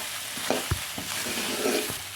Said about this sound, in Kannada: ಈಗ ನೀಟಾಗಿ ಇದನ್ನ ಫ್ರೈ ಮಾಡ್ಕೊತೀವಿ.